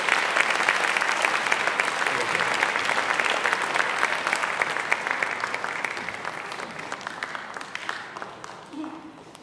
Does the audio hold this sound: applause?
yes